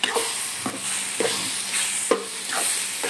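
Masala for a Maithil fish curry fries on medium heat in a pan, a dense continuous sizzle broken by regular scraping strokes of a spoon stirring roughly every half second, close and alone.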